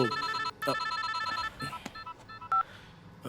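A phone gives off a string of bright electronic tones and beeps, loud and close, with brief gaps and a sharp final chirp, no voices over it.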